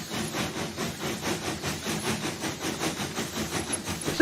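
Steam-powered traction engine with a tractor-style steering wheel, chuffing in a steady rhythmic pulse like an approaching train, with hissing steam and a continuous mechanical rumble.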